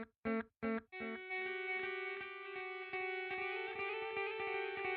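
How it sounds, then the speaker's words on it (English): Echo effect turned up high in the EchoFlower iOS app, a few short tones followed by a dense sustained wash of repeating echoes that layer into a loud ringing drone. "you're going to get a lot louder echoes"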